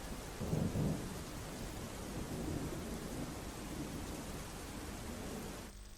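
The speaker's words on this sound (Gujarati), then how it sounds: "ધીમી ધારે વરસાદની શરૂઆત થઈ ગઈ છે" Steady light rain starts falling in Rajkot under a sudden cloudy turn in the weather, making a constant soft hiss that fills the whole stretch, with a low swell early on like distant rumbling.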